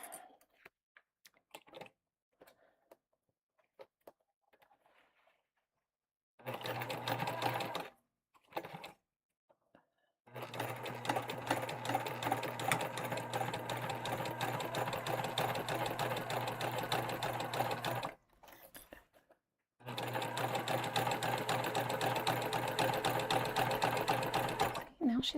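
A sewing machine stitching a tote bag, running in two long bursts of rapid, even mechanical whirring, with short stops between and a quiet, sparse start.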